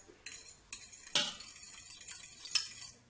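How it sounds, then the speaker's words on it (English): A utensil clinks and scrapes against a bowl while eggs are stirred together with cashew milk, producing a few irregular close metallic taps and swishes, fairly quiet with no voices. "I'm going to go ahead and stir these eggs up"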